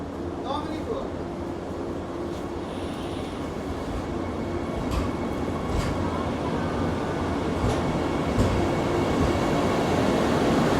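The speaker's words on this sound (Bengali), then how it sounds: "আর ট্রেন ছেড়ে দিল নিউ জলপাইগুড়ি থেকে কামাখ্যার উদ্দেশ্যে।" Train pulling out of New Jalpaiguri station bound for Kamakhya, a steady rolling rumble with faint clacks building slightly over time, close and continuous under station ambience.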